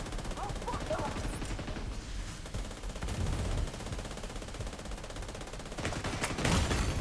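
Rapid video-game gunfire with fire bullets, dense bursts of shots running nearly continuously at close range, mixed with game effects and a voice talking over it.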